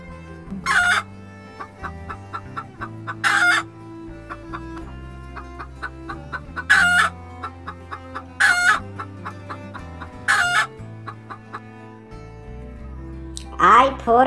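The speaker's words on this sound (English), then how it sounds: "H for hen." A hen clucks in short repeated bursts with a rooster crowing now and then, steady rhythmic farmyard calls close by.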